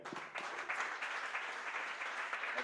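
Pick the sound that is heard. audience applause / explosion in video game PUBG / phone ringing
audience applause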